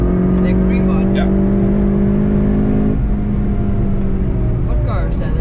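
A Lotus car passes by at the Nordschleife while the listener rides inside a Golf GTI TCR, steady engine drone and road noise shifting in pitch midway as the other car goes past, with people talking over it.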